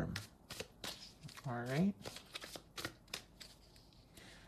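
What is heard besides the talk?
shuffling tarot cards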